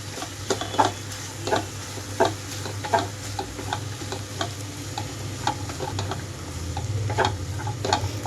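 Cabbage, potato and green peas fry dry in a pan with ginger-garlic paste, under a steady low sizzle. A spoon scrapes and taps against the pan in irregular, close strokes throughout.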